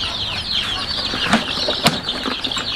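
Crossbred chickens cluck and rustle nearby over a steady background hum, with a few sharp flaps or thumps standing out.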